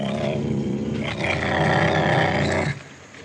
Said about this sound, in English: If you heard something growling outside your window,